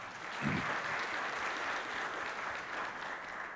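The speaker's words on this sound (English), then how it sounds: "so clap for her" Soft, distant applause from a concert audience after a jazz band solo, a steady even wash of many hands with a low bump near the start.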